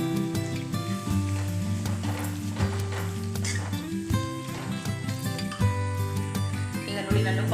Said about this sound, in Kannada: ಈಗ ನೋಡಿ ನಾನು ಪಾಸ್ತಾವನ್ನು ಹಾಕ್ತಿದ್ದೀನಿ ನೋಡಿ, ಹಾಕಿ ಮಿಕ್ಸ್ ಮಾಡ್ತೀನಿ